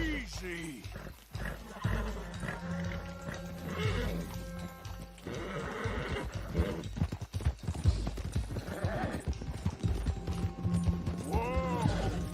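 An Arabian horse's hooves clip-clop steadily in the video game Red Dead Redemption 2, mixed with snorts, game ambience and voices at times.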